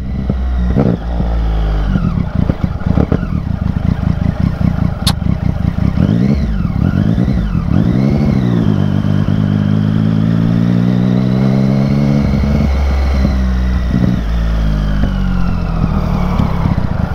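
A motorcycle with water in its fuel tank runs loud and close, its engine surging and sputtering unevenly through repeated revs and dips with no talk over it.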